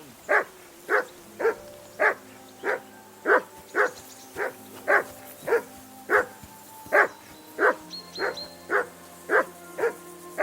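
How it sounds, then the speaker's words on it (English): A dog in the game Kingdom Come: Deliverance II barks steadily and close, about twenty sharp barks in an even rhythm, with a few quicker yips near the end and a low ambient hum underneath. "whistle at that mutt of yours to stop barking"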